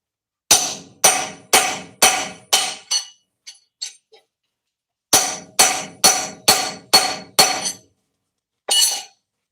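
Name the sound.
hammer whacks on a homemade chisel durability test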